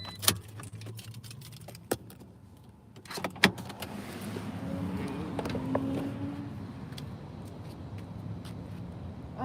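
Car keys jangle with a few sharp clicks and metallic clinks as a parked car is switched off during a Five Guys delivery stop, followed by a low, steady interior hum; close and fairly quiet, with no talking.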